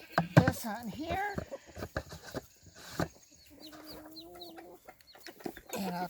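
Chickens cluck and squawk nearby in short bursts, mixed with scattered knocks and a person talking at the start and end.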